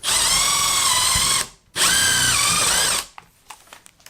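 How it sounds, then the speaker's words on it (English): A power drill whines at high speed in two close, loud bursts, separated by a short pause, as it drills holes in maple wood, followed by a few light clicks and taps. "I'm just gonna drill a couple of holes"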